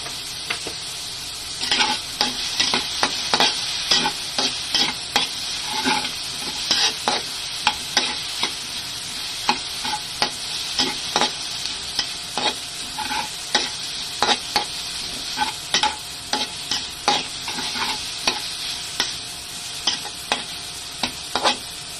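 Pork cubes sizzle steadily in a pan alongside tomatoes while a utensil stirs and scrapes them in frequent, irregular clicks, close and fairly quiet, with no voices.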